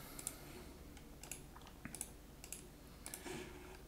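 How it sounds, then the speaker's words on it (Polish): A password being typed on a computer keyboard: a quiet run of irregular, close-up key clicks with small pauses between bursts. "Wpisujemy swoje super trudne turbo hasło."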